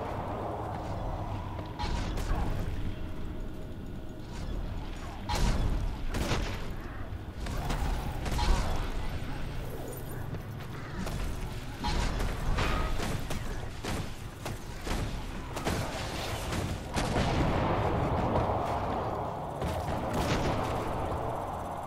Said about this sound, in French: Ah, je vais détruire la statue.